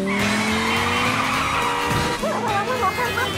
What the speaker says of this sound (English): Go, go, Gadget, race car.